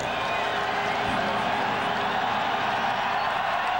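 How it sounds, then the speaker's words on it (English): A packed stadium crowd at a 1996 Broncos at Packers football game roars in a steady, distant wash of cheering, with a commentator talking over it. "They stay to the final bell, cheering their Packers"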